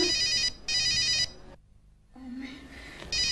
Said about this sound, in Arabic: التليفون